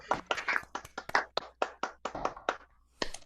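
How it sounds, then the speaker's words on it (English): A small group claps for opera performers at the close of an online concert of Handel, Wagner and Mussorgsky arias, about a dozen sharp, uneven claps spaced through the moment, fairly close, with a brief pause near the end before a final few. "let's go out by offering one last round of applause for our performers, for Sam and Takeshi"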